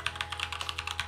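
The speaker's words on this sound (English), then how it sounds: "when you start typing here with your keyboard" Rapid, even keystrokes on a physical computer keyboard used with a Quest 3 headset, about a dozen close clicks in quick succession over a low steady hum.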